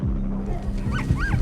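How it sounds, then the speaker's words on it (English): Dogs let out during a tense standoff in a crime drama, giving two short, close barks near the end over a steady low background hum. "I'm letting my dogs out."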